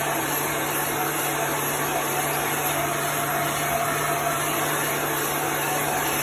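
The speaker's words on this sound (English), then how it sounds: "You want to continually move your heat gun so it doesn't bubble up your chalk paste." A heat gun blows steadily over chalk paste, a constant loud airy whoosh with a faint electric hum beneath, unbroken throughout.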